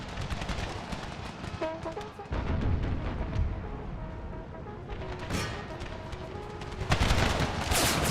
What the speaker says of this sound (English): Canister shot. Use it on the infantry.